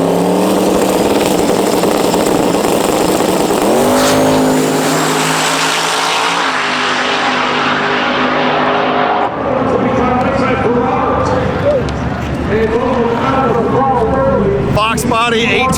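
A Fox Body and a Chevy Luv drag race at TX2K, their engines roaring loud and close, rising in pitch as they accelerate and then easing off, with an announcer talking over them throughout.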